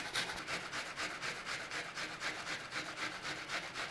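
An onion being grated on a hand grater makes steady, rhythmic rasping strokes, about eight per second-ish cycles repeating evenly throughout, close and fairly loud with no talking.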